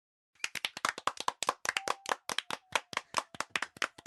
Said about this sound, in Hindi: ठीक से सबके लिए तालियां